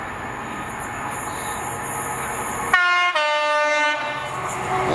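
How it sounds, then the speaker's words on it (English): A Class 66 diesel-hauled rail charter runs through Bridgend station without stopping. Close, loud wheel and engine rumble carries a high squeal, then a sustained two-tone horn blast cuts in partway through. "Approaching train does not stop here."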